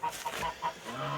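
Hens cluck in a chicken coop, with short bursts of clucking close by over a soft background.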